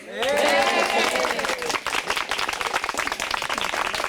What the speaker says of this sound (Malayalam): കയ്യടി വൻ ബലത്തിലാണ്